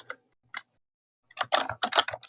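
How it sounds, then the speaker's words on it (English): A computer keyboard clatters nearby during a livestream: two isolated keystrokes, a pause, then a rapid, loud burst of typing with dense clicking. "Is my keyboard super loud?"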